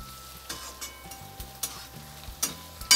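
Chopped onion, garlic and ginger frying in a pan, a steady quiet sizzle broken by repeated sharp taps and scrapes of a spoon on the pan.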